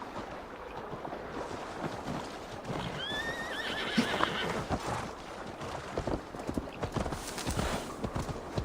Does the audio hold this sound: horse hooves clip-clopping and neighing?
yes